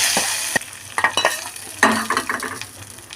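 A hot mustard-seed tempering is poured into an egg and brinjal theeyal curry. Scraping and spoon knocks come first, then a sudden loud sizzling burst that crackles and fades over the next second. No voices.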